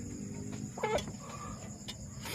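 Hens on a farm that have been eating their own eggs give a quick soft cluck amid a faint outdoor background, brief and at a moderate distance.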